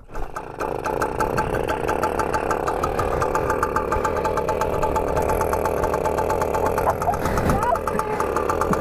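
A small Yamaha motorcycle engine revs while still cold and warming up, a steady loud mechanical drone running throughout with slight throttle swells, close by and without talk.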